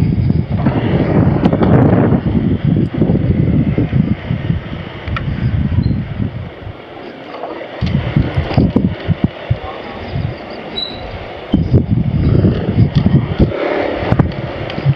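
Wind buffets the microphone while riding a motorbike along a road, a loud, rough, gusting rumble that dips briefly around the middle and then returns.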